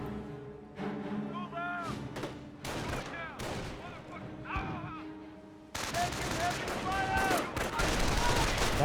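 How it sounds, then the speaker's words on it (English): Landmine detonation and mortar fire in Company of Heroes 1, bursts of explosions and gunfire amid chaotic battle noise, with a sharp loud blast partway through followed by heavier fire. "Landmine detonation there. Mortar does connect with the Volks."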